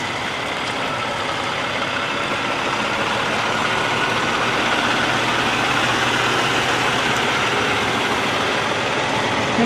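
An 18-wheeler idles in a gas station parking lot, its heavy diesel engine rumbling steadily and loudly throughout with no speech.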